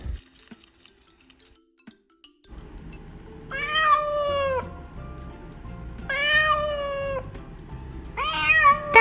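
A cat meows three times in drawn-out, rising and falling calls over a low background hum, during a shadow puppet guessing game; the opening seconds are nearly silent.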